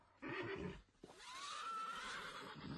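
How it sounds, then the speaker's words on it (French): Horses whinny in panic in a radio drama scene, a loud neigh bursting out after a brief pause and then a long, rising, quavering whinny that carries to the end, with no voices over it. "Et les chevaux paniquent."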